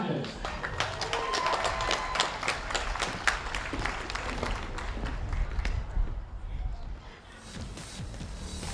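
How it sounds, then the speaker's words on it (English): Crowd at a STIHL Timbersports competition clapping in a steady patter of applause, fairly distant and moderately loud, thinning out toward the end, with a voice talking underneath. "give a big round of applause"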